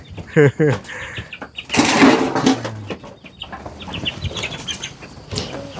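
A chicken flaps its wings in a burst of rapid fluttering, up close, with clucking and rooster-like calls around it and people talking at the same time.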